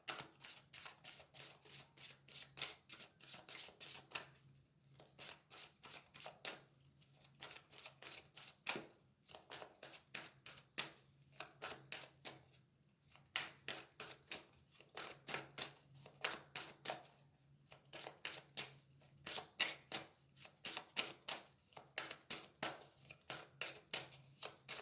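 Tarot cards are shuffled by hand over and over in quick riffling bursts separated by short pauses, close and soft, with no talking.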